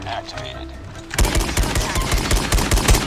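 SKS semi-automatic rifle in Call of Duty Mobile, fired one round at a time as a loud, rapid string of separate shots with in-game action behind them, after a quieter stretch of background game sound.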